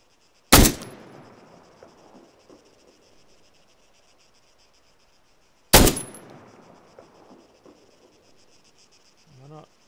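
Long-range sniper rifle in Arma 3, two sharp loud shots about five seconds apart, each trailing off in a decaying echo over quiet background ambience.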